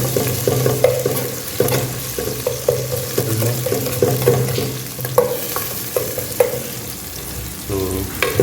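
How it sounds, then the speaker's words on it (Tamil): Onions sizzle and fry in a hot pan, broken up by repeated scraping stirs of a spoon against the pan. "வெங்காயம் நல்லா வதங்கிட்டுருக்கு."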